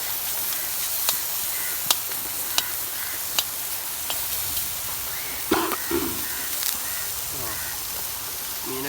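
River fish fry in a pan with a constant close sizzle, broken by sharp pops and crackles, a few scraping stirs and some faint voices.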